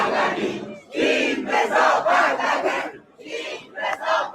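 A large crowd of about 300 Iranians shouting together in loud, sustained bursts of massed voices, with a brief dip before the chanting picks up again.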